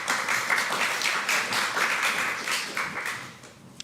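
A panel discussion audience applauds with dense, steady clapping for several seconds before it thins out and fades.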